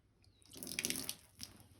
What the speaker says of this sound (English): I'm going to pour it on there and show exactly how this thing works and how it repels the water